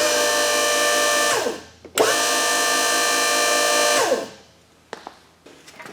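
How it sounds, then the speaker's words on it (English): An electric motor on a rewired 24-volt system revs up twice under a foot pedal, each time a loud, steady high whine that winds down when released, followed by faint clicks. "So I blipped the throttle a couple times, or the foot pedal up there, and turns over, cranks up"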